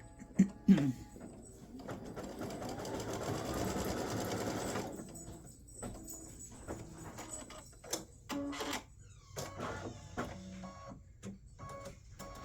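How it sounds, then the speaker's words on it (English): An embroidery sewing machine runs a satin stitch around the blade of a scissors appliqué design, buzzing in a steady rapid burst for several seconds before falling into scattered mechanical clicks and short stops, fairly quiet and close. "we're going to stitch the satin stitch around this blade"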